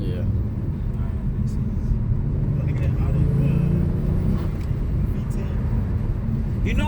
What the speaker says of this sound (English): if you want to go up in gear, you'll hear it actually spool up all the way.